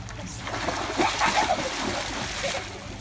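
Water splashing in a backyard swimming pool during family play, a broad sustained wash of splatter across the clip with excited voices mixed in.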